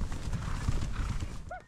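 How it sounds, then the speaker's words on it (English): A herd of about 85 horses on a spring ranch drive in eastern Arizona clip-clops in a dense, steady patter of hooves, and one horse whinnies briefly near the end, close and fairly loud. "Driving some 85 horses more than 60 miles over 3 days to their summer home at this historic ranch."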